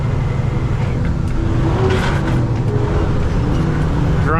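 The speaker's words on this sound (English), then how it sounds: "I'm gonna downshift." A car engine hums steadily and loudly from inside the cabin while the driver downshifts on a neighborhood road, a continuous drone with slight shifts in pitch and someone talking over it.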